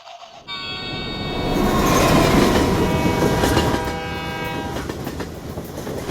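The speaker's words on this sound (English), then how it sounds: "we have to go the slow train" A slow train in China's Daliang Mountain area rumbles past close by, its horn sounding a long, sustained blast over clattering wheels and rolling rail noise that swells and then eases.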